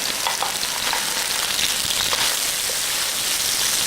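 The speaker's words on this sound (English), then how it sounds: "Now we are going to cook the shrimp for 1 minute until the color of the shrimp turns pink." Shrimp fry in a pan for shrimp lo mein, giving a loud, dense, continuous sizzle with faint stirring ticks through it.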